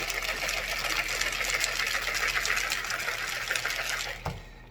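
A margarita shaken hard in a cocktail shaker, a dense steady rattle of ice and liquid that runs loud and continuous for about four seconds before stopping abruptly.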